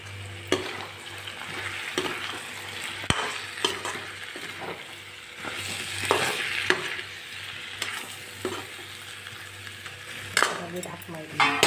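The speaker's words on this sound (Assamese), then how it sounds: "এতিয়া মই ধুনীয়াকৈ লৰাই দিম" Meat curry with potatoes being stirred in a frying pan, a spoon scraping and clattering in repeated strokes over a steady oily sizzle, close and moderately loud, with no voices.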